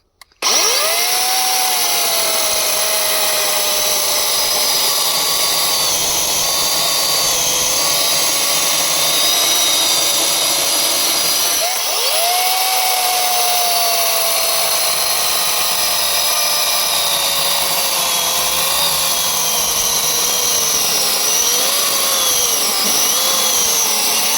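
An AL-KO CS4030 cordless chainsaw cuts through a damp, frozen felled plum tree outdoors at minus three, with a loud continuous electric whine that dips briefly midway and then runs steadily on.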